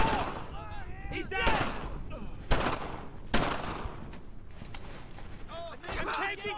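Gunfire in the World War II shooter Brothers in Arms: Earned in Blood: repeated sharp rifle and machine-gun shots with a couple of louder blasts, mixed with voices and in-game chatter.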